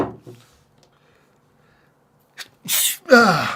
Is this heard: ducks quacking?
no